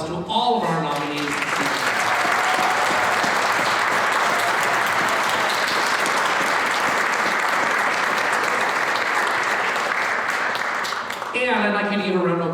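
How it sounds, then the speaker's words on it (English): Youth awards ceremony audience giving the nominees a sustained round of applause, dense clapping lasting around ten seconds, with a speaker's voice just before and after. "Let's give one more round of applause to all of our nominees."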